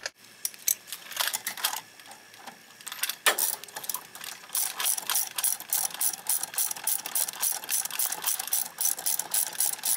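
Ratchet clicking as a brake caliper bolt is tightened on a Honda Accord during a brake pad replacement, a long run of quick, close, sharp clicks in steady bursts with no talk.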